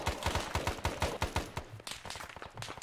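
Arma 3 gunfire in a Vietnam-era jungle setting: a rapid, steady automatic burst of evenly spaced reports, fairly dense and continuous, with a few looser shots near the end.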